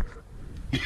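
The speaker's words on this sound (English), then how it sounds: "Still coughing, as you can tell." A man coughs in a workshop, with a muffled rasp early on and a louder, harsher cough near the end over low background noise.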